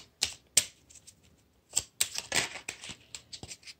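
Oracle cards are shuffled by hand in a quiet room, producing a series of crisp, irregular flicking and slapping card sounds, close and fairly clear with short gaps between bursts.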